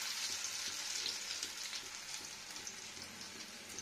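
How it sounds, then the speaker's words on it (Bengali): Ajwain leaf pakoras made with gram flour and grated potato fry in hot oil with a close, steady hiss and fine crackling sizzle, and no voices. "এবার পকোড়ার মতো দিয়ে নিচ্ছি, দেখুন সবকটা দিয়ে নেবো। এটা আজওয়ান পকোড়া।"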